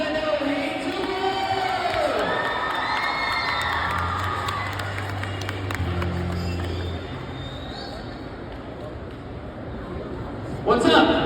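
A school assembly crowd at a BMX show in a gym cheers, shouts and whoops loudly and continuously, with children's voices and an announcer's voice mixed in, swelling again at the end.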